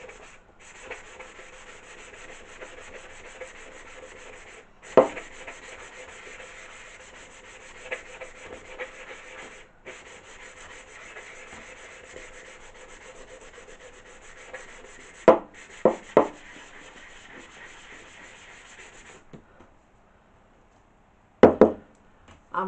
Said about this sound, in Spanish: voy a ver si con una lijada manual es suficiente